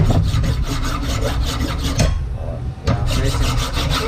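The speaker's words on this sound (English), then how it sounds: "I like to file the rust out of these" A metal file rasping rust off front brake pad hardware on a 2016 Chevy Impala LTZ, loud close rhythmic back-and-forth strokes with a brief pause midway before filing resumes.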